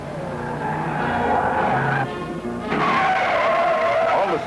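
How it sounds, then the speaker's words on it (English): 1968 Oldsmobile Hurst Olds taking high-speed corners, its tires squealing loudly over a continuous engine roar, with the screech briefly easing before surging again. "In high-speed cornering, you can steer it through with the accelerator."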